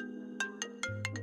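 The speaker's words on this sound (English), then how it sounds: "He's calling now. Might want to come out and answer the phone." An iPhone ringtone from an incoming call, a bright electronic melody with a steady tonal line and a series of rhythmic chiming notes, heard clearly and alone.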